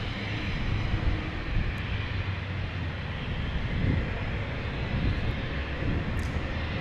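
An Embraer jet at Dallas Love Field during rainy thunderstorm weather gives a steady, fairly distant engine roar that holds evenly for several seconds with no talk.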